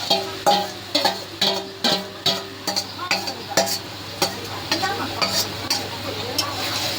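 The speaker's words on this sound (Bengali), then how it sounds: "এর মধ্যে আমি এই ম্যারিনেট করা চিকেনটা আমি ছেড়ে দেবো।" Marinated chicken dropped into hot spiced oil after frying onion, ginger and garlic, sizzling steadily while a utensil scrapes and stirs the pan in repeated close, sharp strokes.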